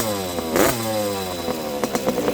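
A SYX Moto 50cc motorcycle engine runs close by with a buzzing, wavering pitch that briefly revs up, then settles into an uneven idle with small clattery knocks.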